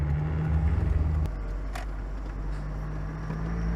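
A Mazda Miata autocross race car pulls away in first gear after the clutch is let out, giving a steady, close engine drone with a brief throbbing pulse at the start.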